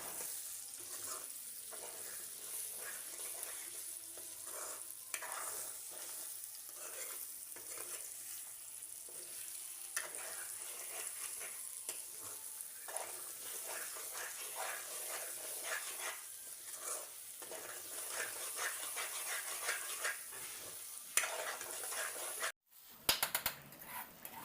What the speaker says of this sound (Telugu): ఉల్లిపాయలో కలిసేటట్టు ఎగ్ని కొంచెం స్లోగా కలుపుకుంటా ఉండాలి